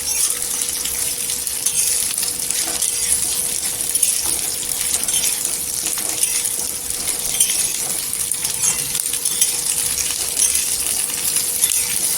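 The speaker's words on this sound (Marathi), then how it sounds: "तेलावर अशी छान परतून घ्यायची आणि तेल कमीच टाकायचं गॅस स्लो करायचं" Okra slices sauté in a small amount of oil over low heat, giving off a continuous, even sizzling hiss that stays close and steady throughout with no talking.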